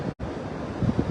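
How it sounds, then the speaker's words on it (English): Wind buffets a microphone on a blustery beach, a rough, steady roar with surf-like rumble underneath and a brief dropout near the start. "here at the beach, and it's a windy one"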